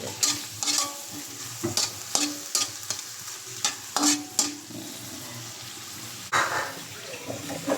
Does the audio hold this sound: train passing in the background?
no